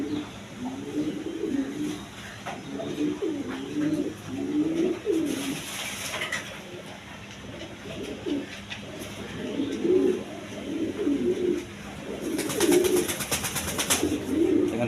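A pair of pet pigeons coo repeatedly in soft, rhythmic phrases, close by and continuous, with a few brief louder rustles.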